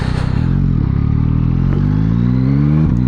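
A 2024 Yamaha MT-09SP motorcycle is ridden at almost full throttle, a loud close engine roar with rising pitch through the gears and brief dips at the shifts, with no talking.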